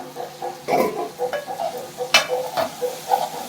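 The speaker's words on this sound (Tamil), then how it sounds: "இப்போ இதை மூடி வச்சோம்ல, ஒரு கிண்டு விடும்." A spoon stirs goat blood fry in a pan, giving close scraping and soft sizzling with a few sharper clinks against the metal in an irregular rhythm.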